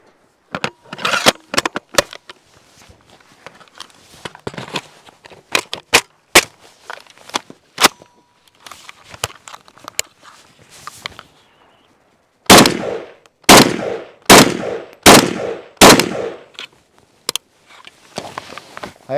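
Single shots from a Steyr AUG A3 rifle crack out one after another, loud and close, irregular at first and then a steadier run of about eight heavy reports near the end, with no talk between them.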